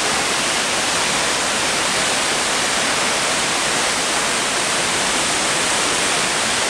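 The first waterfall in the Arshan gorge on a cold autumn day gives a loud, unbroken roar of rushing water that fills the whole clip with no voices.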